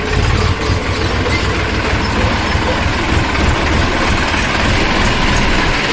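A tractor engine runs steadily throughout on a farm track, a continuous low rumbling drone with dense broadband noise and no pauses, close and loud.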